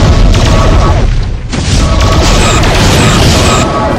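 Photon torpedoes firing from a Star Trek starship, a dense, loud roar of rumbling booms and whooshing bursts that runs the whole time with a short dip midway and no voices.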